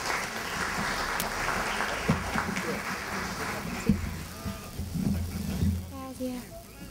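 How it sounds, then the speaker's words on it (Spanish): An audience claps steadily at an indoor recognition ceremony for the Miraflores adolescent and youth council. The applause is moderate and sustained, and scattered noise and faint background sounds mix in as it begins to fade. "Un aplauso para ella, por favor."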